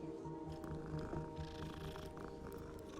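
A kitten in the Hogwarts Legacy video game purrs steadily at close range, a soft rhythmic rumble that goes on for the full stretch over a faint game backdrop.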